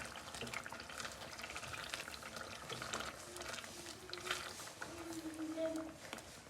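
A spoon stirs lentils, rice and broken wheat in a pot of chicken haleem, giving a steady scraping and swishing under a busy, noisy kitchen background with a faint voice-like murmur.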